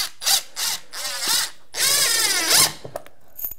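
Power drill driving 3-inch construction screws through folded carpet, several loud close bursts of whining motor with rising pitch, separated by short pauses, ending in a few clicks.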